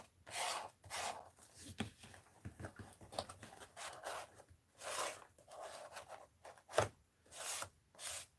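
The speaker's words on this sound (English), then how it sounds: "Let's scrape this off. Or scrape it down so it's not so waxy." A palette knife scrapes waxy pigment off an artwork in repeated rasping strokes, close and fairly quiet, with short pauses between bursts and no talking.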